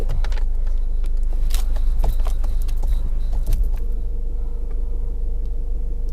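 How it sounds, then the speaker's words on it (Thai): A 2023 Isuzu Mu-X Active SUV backing up, its steady low engine rumble close and continuous, with faint clicks and small interior sounds on top and no voices. "เดี๋ยวหนูลองถอยหลังให้ดูเลย"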